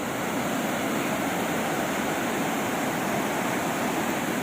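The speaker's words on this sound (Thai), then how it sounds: "แล้วต่อไปข้างล่างจะเป็นน้ำตกทุ่งนาเมืองนะครับ" Thung Na Mueang waterfall in Thailand, swollen after recent rain, gives off a continuous broad rushing roar, steady and even throughout with no other sounds.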